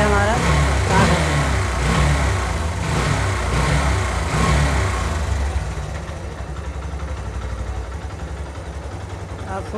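A Yamaha Fazer motorcycle engine runs after being kick-started, giving a steady mid-pitched putter that holds throughout, with someone talking over it for much of the clip.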